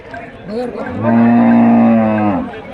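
A buffalo at a cattle market gives one long, loud, close moo that swells and fades, with brief crowd noise before it.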